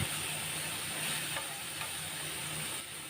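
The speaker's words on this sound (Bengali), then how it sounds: "গ্যাসের ফ্লেম লো করে পেঁয়াজটাকে এখন একটু কষিয়ে নেব" Onion paste fries slowly in oil in a pan over a low gas flame, giving a soft, steady sizzle and hiss with faint stirring scrapes, alone and fairly quiet.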